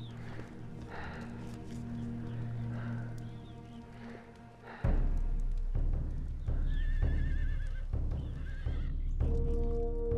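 Horses whinny loudly several times, with hooves clip-clopping on hard ground in the background.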